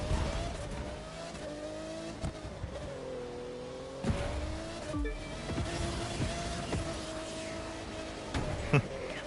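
An F1 race car in the video game The Crew 2 drones steadily through about nine seconds, its engine pitch rising and falling with shifts and revs, with faint tire squeal and no voices.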